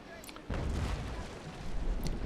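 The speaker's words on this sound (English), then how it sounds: "Well, Charles Rene Quist, say hello to my broadside." Broadside of ship cannons firing in the Naval Action naval battle game, a deep sustained rumbling boom that swells after a quiet start and carries on loud to the end.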